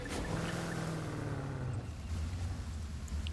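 A boat in The Crew 2 racing game, a steady motor drone with a falling tonal whine and low rumble, moderately loud and heard on its own without talk.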